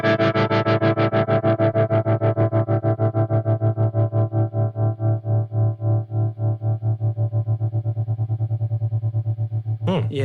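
An electric guitar chord through a blackface-style vibrato channel reverb amp rings out heavily processed, pulsing with a steady wobbling vibrato at maximum depth that slows and then speeds up as it sustains.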